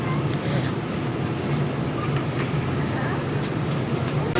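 An elevated train on the Soekarno-Hatta airport route waits to depart, its interior giving a steady low rumble and hum with faint clanks, loud and continuous under a nearby voice.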